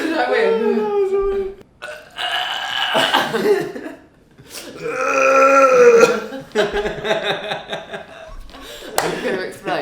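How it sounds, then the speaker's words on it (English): Two men trade loud, drawn-out burps during a burping competition, several long croaking belches separated by short pauses, with some chuckling and voice sounds mixed in. "So this was our burping challenge."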